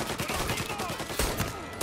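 Gunfire bursts in Mafia: Definitive Edition, a loud, dense fusillade of rapid shots through the whole short moment, with sharp cracks and dense impacts standing alone.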